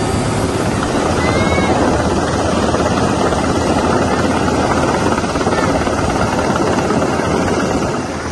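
A waterbombing helicopter flies overhead during a forest and land fire response in Way Kambas, giving a loud, steady rotor and engine roar that fills the whole stretch without pause.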